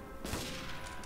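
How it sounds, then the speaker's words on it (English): Gunfire in a World War II Soviet roleplay video game breaks out as a sudden dense burst of shots, a brief loud fusillade over constant game noise. "Who the fuck's shooting?"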